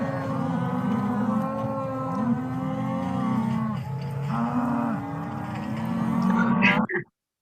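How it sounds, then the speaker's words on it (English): Many cattle moo loudly and continuously, overlapping long calls from a nearby herd, ending abruptly. "They made this noise all night long, and they kept adding cattle to this group of cows."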